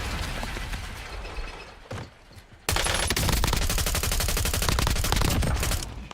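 Sustained rapid gunfire from Call of Duty Warzone, loud and dense bursts of automatic fire that briefly drop off near the two-second mark, then resume at full intensity, continuous to the end with no talk.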